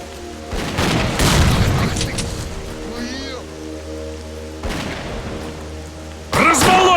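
A grenade explosion in the video game STALKER: Clear Sky goes off as a deep boom with a rumbling, crackling tail over a steady droning background, with bits of voice and effects around it.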